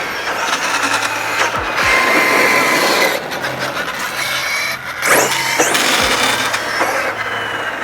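A Losi 1/8 LST 3XL-E electric RC monster truck driving hard, its motor whining over loud, continuous tire crunching and scrabbling on rough ground, with a couple of sharper thumps and surges close by.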